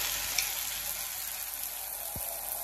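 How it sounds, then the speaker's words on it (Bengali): A pan of pumpkin and shrimp chorchori with ginger paste and turmeric sizzles steadily, a soft continuous hiss up close with one faint scrape of stirring, and no voices. "আদা বাটা দিয়ে নাড়ছি"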